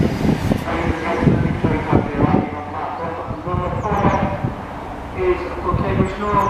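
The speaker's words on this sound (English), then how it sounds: "Now passing through is a Class 91 Virgin Trains East Coast service, heading somewhere up north" A Class 91 Virgin Trains East Coast service passes through Stevenage station on the East Coast Main Line, a steady rumbling roar with rhythmic clatter of wheels over rail joints and a faint high squeal near the end.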